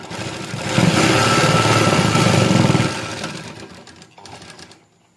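A sewing machine runs close and loud in a steady rapid rattle while double-stitching a shalwar seam, then slows, stops briefly, whirs once more in a short burst and falls silent.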